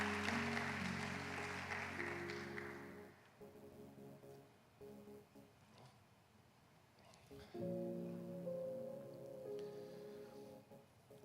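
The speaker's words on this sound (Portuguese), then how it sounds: "Aplaude Ele aí bem forte" A church congregation applauds during a worship service, a dense rain-like clatter of clapping that fades after a few seconds, with music playing underneath throughout.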